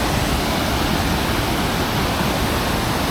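A Yorkshire waterfall roars as a steady, broadband rush of falling water, close and continuous with no breaks or voices.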